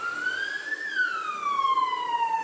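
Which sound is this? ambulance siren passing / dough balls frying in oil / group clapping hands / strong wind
ambulance siren passing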